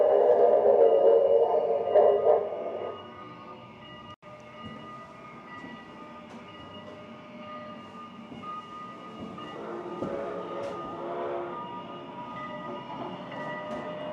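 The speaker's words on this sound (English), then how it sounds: "Train to your right, leaving soon." A small kiddie ride train at an amusement park rumbles and clatters steadily, with a brief tonal whistle-like hum at the start, then continuous mechanical rolling noise.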